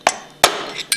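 Hammer taps on a screwdriver driving the steel-cased seal out of a Hypro roller pump housing: three sharp metallic strikes, close and clear, with no talk.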